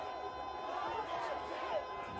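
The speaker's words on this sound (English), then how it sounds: "You hear the crowd." A football stadium crowd roars at a 2018 MEAC college game between North Carolina Central Eagles and Delaware State Hornets as a 43-yard field goal is attempted, a steady dense wash of distant cheering under a commentator's voice.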